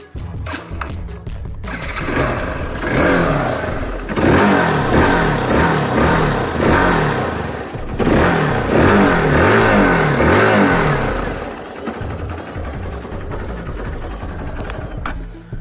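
Hero XPulse 200 4V motorcycle engine revved up close in two strong bursts, rising and falling between a steadier idle at the start and end.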